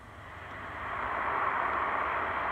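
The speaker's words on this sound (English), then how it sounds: "And that's the sound of water rushing through." Water rushes through a leak in a swimming pool's vinyl liner, picked up underwater by a listening scope as a steady broadband hiss that swells louder after the first second and then holds.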